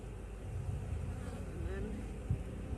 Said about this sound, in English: I'm going to shake some extra bees into this hive over here